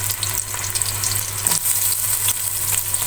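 Long-cut onions browning in hot cooking oil in a pan, giving a steady, loud, close sizzle and crackle throughout with a few faint stirring scrapes and no voices.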